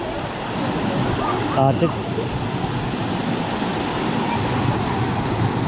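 Suuçtu waterfall, a steady broadband rush of falling water that stays constant throughout, with a brief voice cutting in near the two-second mark.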